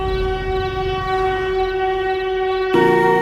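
A train passing on rails, heard as a steady loud rumble with sustained tonal horn-like lines, followed by a brighter, louder surge near the end.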